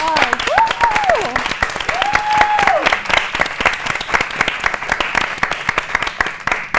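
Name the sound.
applause for the professor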